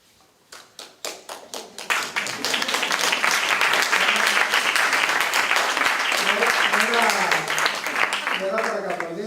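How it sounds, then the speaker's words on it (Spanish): Applause from an audience after a film screening: a few scattered claps build quickly into steady clapping that carries on for several seconds, with voices talking and laughing underneath toward the end. "No era para que aplaudieses, era para que preguntases."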